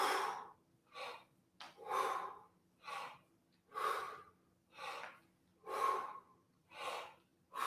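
Forceful rhythmic breathing during breath squats, with about ten sharp, loud inhale-exhale bursts spaced roughly a second apart and quiet gaps between them.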